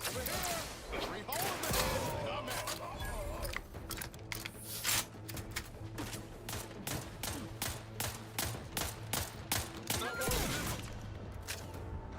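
Rapid, sustained gunfire and bullet impacts in the video game The Outer Worlds 2 as the player is shot, a dense stream of sharp cracks running throughout at moderate loudness over game sounds and a tonal background.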